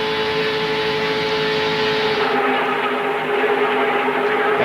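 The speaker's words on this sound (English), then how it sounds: "31 cars, 2 seconds apart, with less than 40 laps to go at 190 plus miles an hour" NASCAR stock cars in the 2000 Winston 500 race at about 190 mph make a loud, continuous engine roar as the pack passes. The roar drops in pitch partway through, and no one speaks.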